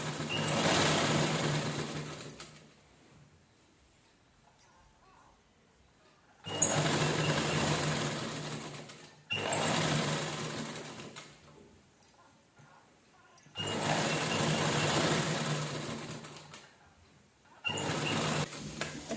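A sewing machine stitches a round circle seam on leftover blouse fabric scraps, running in four steady bursts of several seconds each with quiet pauses between them.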